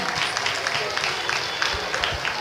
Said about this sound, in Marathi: खूप छान, जोरदार टाळ्या वाजवूया पुन्हा एकदा.